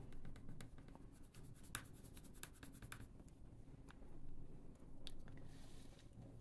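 Rexel Derwent watercolour pencil swatched on paper, giving quick rhythmic scratchy strokes in bursts, close and fairly quiet, with a few sharper taps.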